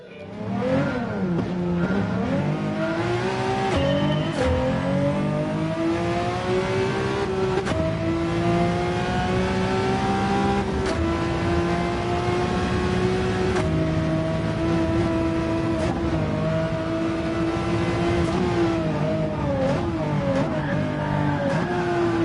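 A Pagani Zonda's engine revs and climbs through gears in the Gran Turismo 7 racing game, a loud continuous roar with rising pitch sweeps and brief dips at each shift, heard alone.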